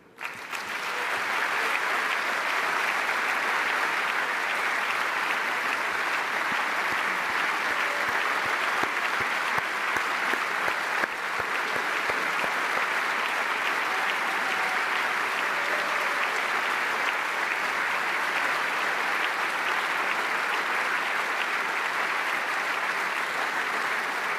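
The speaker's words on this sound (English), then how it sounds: "Listen to these applauds and never forget it" A large party congress audience breaks into long, sustained applause at an electoral congress of the Socialist party, a steady roar of clapping that starts abruptly and holds at a constant level for over twenty seconds.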